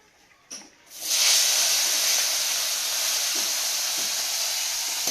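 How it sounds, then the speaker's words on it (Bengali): Koi fish drop into very hot oil in a pan over a wood-fired stove, setting off a sudden loud, close hiss and crackle that holds steady for several seconds, with no talking. "তেলটা খুব গরম হয়ে গেছে মাছগুলো দিয়ে দেব"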